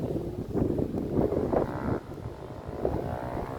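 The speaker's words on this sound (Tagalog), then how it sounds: "Mahangin dito guys." Steady gusting wind buffets the microphone, a low rumbling roar that swells and eases throughout with no voices.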